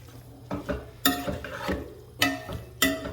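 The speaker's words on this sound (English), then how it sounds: "I'm gonna keep stirring it as I go, because I wanna brush that red off" Frozen crawfish sautéing in a pot, stirred with a utensil in several distinct scraping strokes against the metal, close and clear over a light sizzle.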